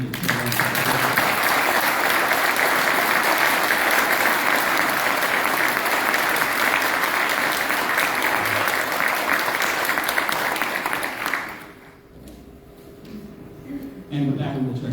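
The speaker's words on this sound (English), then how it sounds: "So applause to the two candidates." Loud, sustained audience applause for two election candidates at a county committee forum, continuous clapping that stops abruptly near the end, leaving a brief hush and a little room noise.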